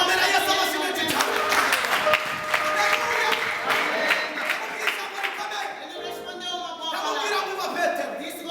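A church congregation at a service in Mozambique applauds in praise of Jesus, producing continuous, fairly loud clapping mixed with shouting and excited voices.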